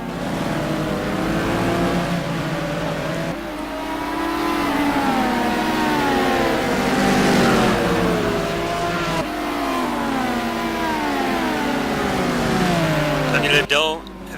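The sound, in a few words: race car engines at race start in a sim racing game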